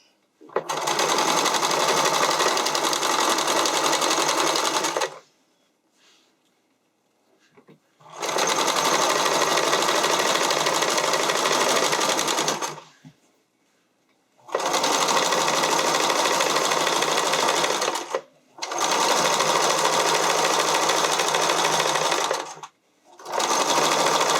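A sewing machine stitches elastic onto a skating dress in four long, steady runs at close range, each separated by a brief pause.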